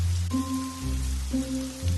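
Steady rain patters on a surface through a short stretch, with low tonal hums and a faint steady tone underneath and no voices.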